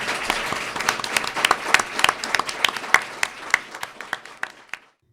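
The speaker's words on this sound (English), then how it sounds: "Please give our panelists a warm round of applause." A podcast panel audience at a Writers' League of Texas event claps for the panelists, a smaller group with distinct individual claps that thin out and stop near the end, leaving silence.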